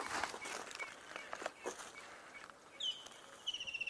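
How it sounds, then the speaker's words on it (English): Distant bird calls, reminiscent of a sick Egyptian goose, heard outdoors at sunset on a wildlife drive: a couple of faint, rising nasal cries late on, over quiet background rustling and occasional footstep-like thumps. "I can hear a funny bird calling"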